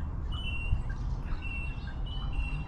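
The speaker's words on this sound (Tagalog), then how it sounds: "Ibon, Nad." Birds in a botanic garden in autumn in Auckland, New Zealand, giving a few thin, high chirps and short whistled calls at moderate distance over a low outdoor rumble, with no talk.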